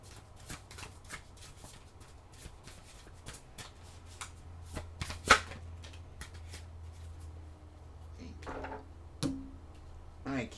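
Tarot cards shuffled by hand in a quiet room, a run of soft, rapid riffling flutters and light taps near the mic, with a sharper card snap midway and faint talking toward the end.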